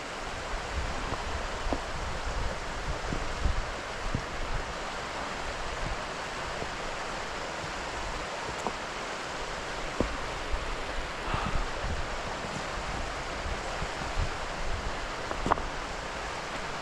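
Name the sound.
Careyburn waterfall flowing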